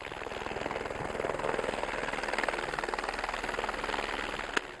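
A helicopter's rotor thumps in a fast, steady chop close by while manoeuvring over caribou, loud and continuous, with a brief sharp click near the end.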